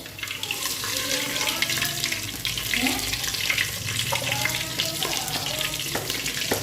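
Mustard seeds and brinjal fry in hot oil with a steady sizzle and crackle, broken by stirring and scraping noises close by; a voice is briefly heard over the frying.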